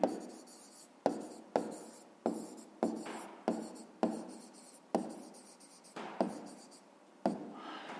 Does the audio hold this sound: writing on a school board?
yes